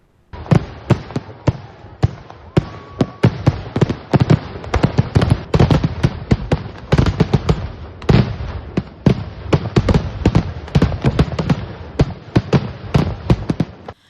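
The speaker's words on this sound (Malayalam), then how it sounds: "തെക്കുമംഗലം ദേശക്കൂത്തിന്റെ ഭാഗമായി നടന്ന വെടിക്കെട്ട് ആകർഷകമായി" Fireworks go off at the Chinakkathoor temple festival in Kerala, set off in a harvested paddy field behind the temple. Dense, rapid bursts of sharp, loud bangs crackle continuously, with no voices.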